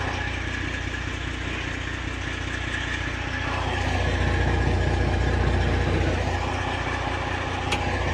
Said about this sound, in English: there's always that one truck just idling at the shipper